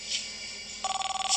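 A telephone rings with a rapid, trilling electronic warble that starts partway through over a low background hum. It sounds close and moderately loud, with no talk.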